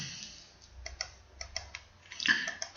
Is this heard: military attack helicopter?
no